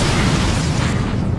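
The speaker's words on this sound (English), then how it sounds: "Let's watch this interceptor slowly get blown up by the Federation." An interceptor ship blows up in the space strategy game Sins of a Solar Empire, a loud, dense roar of explosion noise that fills the short moment without any talk.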